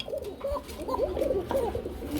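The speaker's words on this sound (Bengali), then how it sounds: "পোকা কবুতর হিসাবে ডাকও শোনাই দিছি" Pigeons coo in a row of soft, throaty calls close by, repeating steadily with no one talking over them.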